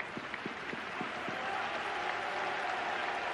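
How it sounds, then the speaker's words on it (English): A football manager clapping during a Juventus vs Sampdoria match, about five quick, crisp claps near the start, set over a steady wash of stadium crowd noise. "Manager applauding"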